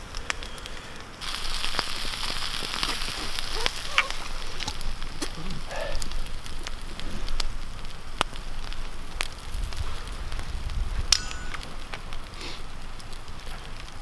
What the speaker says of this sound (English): keep heating it and stirring it every so often, because this frying pan will burn it up